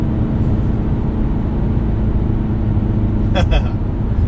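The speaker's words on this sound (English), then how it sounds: "I'm slowing down, it's all engine-based braking" A VW Golf R MK7.5 hot hatch, 300 hp with all-wheel drive, slowing under engine braking, a steady low drone and rumble heard from inside the cabin with a brief higher chirp near the end.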